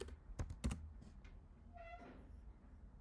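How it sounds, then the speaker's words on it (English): Quick keystrokes clatter on a computer keyboard in a short, irregular burst of taps. A brief higher tonal sweep follows, fairly quiet and close. "I need to type"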